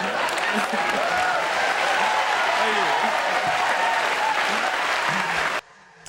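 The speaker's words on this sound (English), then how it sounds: "That's a serious applause break right there." Loud, sustained applause from a large studio audience after Eddie Murphy's stand-up on Carson's Tonight Show, steady for several seconds before cutting off abruptly near the end.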